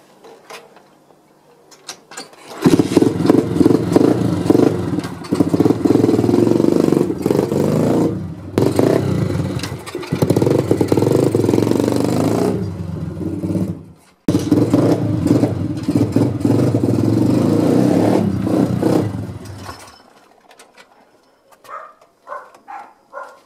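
A motorcycle engine idles, then revs up and down repeatedly with gear clatter, loud and close, before dropping back to a quiet idle.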